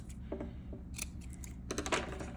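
Scissors snip through natural ribbon trimmed to fit a crocheted witch hat brim, a few quiet, crisp cuts spaced apart over low room noise.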